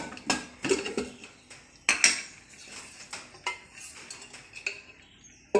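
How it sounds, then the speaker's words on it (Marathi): A kadhai (wok) is set on a gas stove in a home kitchen, producing a string of close, sharp metallic clinks and clatters spaced irregularly over several seconds, with no talking. "त्यासाठी मी गॅसवरती कढई ठेवते, त्यामध्ये तेल घालूया"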